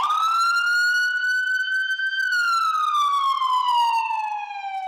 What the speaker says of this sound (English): The flash of red and the blare of sirens.